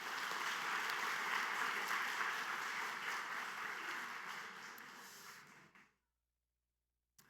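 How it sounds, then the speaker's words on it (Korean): Sustained applause from a large church congregation during a Sunday service holds steady, thins out gradually, then stops, leaving silence. "축복하는 박수 하도록 하겠습니다"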